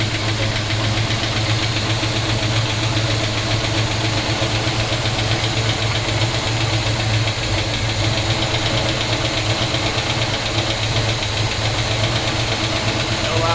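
1971 Pontiac GTO V8 idling loudly and steadily after its first start in over five years, with a lumpy, slightly retarded-timing note and constant mechanical clatter, heard up close.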